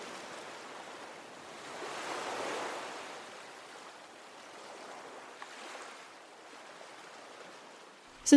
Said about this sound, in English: when I stand on the shoreline and listen to the ocean